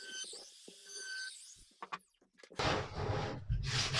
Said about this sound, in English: I then did a little light hand sanding